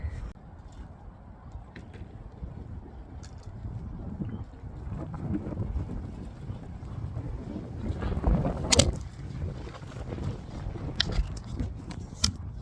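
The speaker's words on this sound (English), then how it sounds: "Told you it was windy." Strong wind gusting through a garden where a pond is being built, a low rumbling buffet against the microphone that rises and falls and swells toward the middle, with a few sharp knocks.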